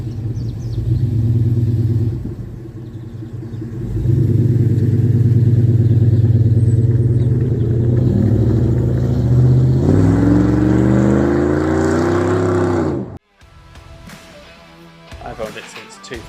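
A 2003 Dodge Ram 1500 Laramie double cab, 2WD, with a 5.7L V8 Hemi, idling steadily with a deep loud rumble, then revving up with rising pitch around the ten-second mark before cutting off abruptly, followed by faint background noise.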